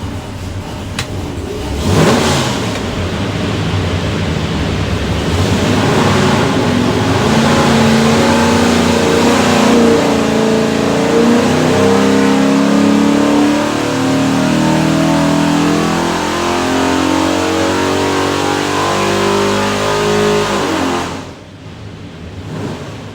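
A 347 Ford stroker V8 with a front sump oil pan makes a full pull on a dyno. The engine roars loudly and close, rising steadily in pitch for about twenty seconds, then cuts off abruptly, with no talk.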